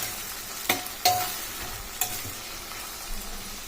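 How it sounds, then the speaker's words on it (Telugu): Okra pieces stirred in a pan, low frying sizzle punctuated by three or four distinct spatula knocks against the pan, close and unaccompanied by speech. "ఇప్పుడు బెండకాయ ముక్కల్ని వేసేసాము కదండి, బాగా ఒకసారి కలుపుకొని పెట్టుకోవాలి"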